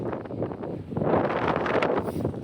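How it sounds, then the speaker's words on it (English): Wind on Sheila Ridge rushes and buffets across the microphone in a steady roar that swells and gusts, with no other clear sound standing out. "Get out of the wind really quick."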